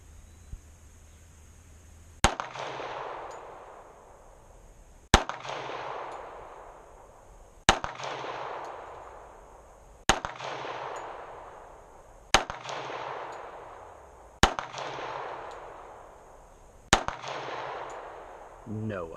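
Seven sharp pistol gunshots at an indoor shooting range, fired one at a time about every two to three seconds, each loud crack followed by a brief ringing decay, with a steady high-pitched hum underneath.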